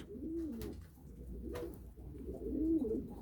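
Inside a loft, pigeons give low, throaty coos in two or three rolling phrases, close and soft, with occasional faint taps between them and no talking.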